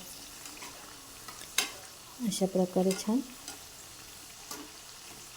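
Bread pakoda frying in oil in a kadhai, a steady soft sizzle running throughout, with someone speaking briefly in the middle.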